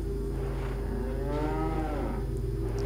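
A cow moos in the Resident Evil 4 village, one long drawn-out call with a rising and falling pitch, loud and close over a steady game background.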